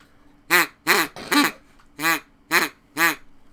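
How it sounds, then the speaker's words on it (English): A duck call is blown in six separate nasal quacks, loud and close, spaced about half a second apart with short gaps between them and no talk. "What is that? It's a duck call."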